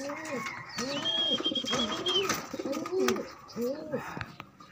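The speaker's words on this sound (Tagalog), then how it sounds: "Pakawalan natin sila kalapatids." White pigeons coo repeatedly at close range in a soft rhythmic series, with brief rustling and a voice in the background.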